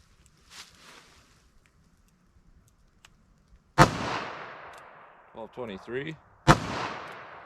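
A 3-inch revolver chambered in .22 WMR fires Federal Punch 45-grain rounds: two sharp, loud close shots a few seconds apart, each with a ringing decay, and a voice speaks briefly between them.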